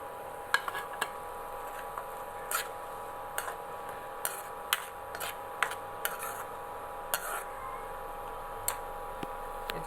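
Turmeric and tomato sautéed in a pan: a spoon scrapes and taps against the pan in irregular clicks over a soft steady sizzle, close and fairly quiet, with no talking.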